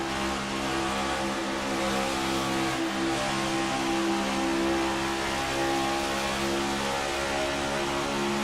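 A race car engine from an onboard view in the iRacing game, driven as the number 40 Coke Zero Chevrolet in an eNASCAR race at Las Vegas Motor Speedway, drones loud and steady with a tight harmonic whine that holds through the whole clip.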